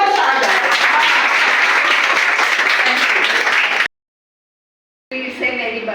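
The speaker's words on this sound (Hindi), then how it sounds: "उनके लिए बजाओ ताली के उनको खुद जोश आ जाए" Audience applause at a felicitation ceremony, a dense, loud burst of clapping from a crowd that cuts off abruptly, then a shorter round of clapping resumes after about a second of silence.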